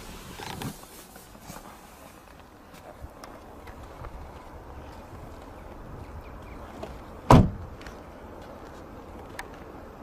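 A 2022 Chevrolet Cobalt's door gives a single sharp latch click amid a quiet, low background hum, with faint scattered ticks around it.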